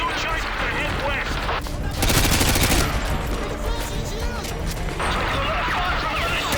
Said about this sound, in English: Taking a lot of fire from the militia!